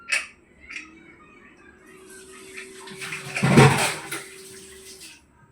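Running water splashes while something is rinsed for aval payasam, faint trickles and clinks building to a louder gush near the middle before tapering off.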